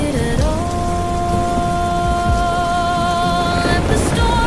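Rain falls in a dense, constant hiss with a low thunder rumble near the end, all beneath soft sustained musical tones.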